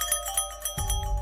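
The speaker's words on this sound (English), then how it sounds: "Then, soft, almost polite, came the sound of a bell." A bell rings in a series of soft, evenly spaced chimes with sustained ringing tones, joined near the end by a low rumbling drone.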